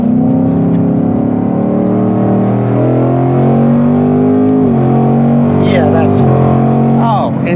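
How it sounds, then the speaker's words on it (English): Modified 2024 Mustang Dark Horse engine, loud and close, a strong rising drone stepping through several quick paddle upshifts with brief dips between gears, while people talk over it. "the DCT sounds like you're in an exotic car shifting"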